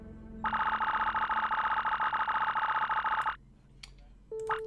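A telephone rings in the video game Once Upon a Timeline, a loud electronic warbling ring pulsing rapidly for about three seconds before cutting off, followed by a short beep.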